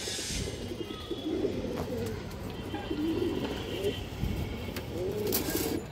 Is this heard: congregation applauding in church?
no